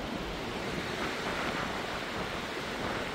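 Storm wind roars through a nearby forest in a continuous, broad rushing hum, steady and enveloping with no voices.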